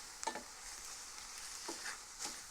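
Lion's mane mushrooms fry in a pan as their water boils off and they begin to brown, giving a steady close sizzle with a few soft crackles and pops.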